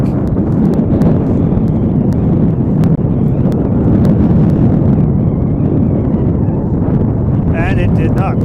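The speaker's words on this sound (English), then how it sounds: "as the wind really gusts up as he's about to make the kick" Heavy, roaring wind buffets the microphone throughout at a high school football game, a constant rumbling blast with occasional sharp knocks, and a brief voice near the end.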